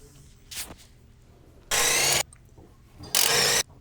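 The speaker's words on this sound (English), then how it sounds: "use your 24mm open-ended wrench and your large 24mm deep socket on the impact to remove the strut to knuckle bolts" An impact wrench with a 24mm deep socket removing the strut-to-knuckle bolts on a 2008 Acura, two loud sustained rattling bursts of about half a second each, separated by quiet.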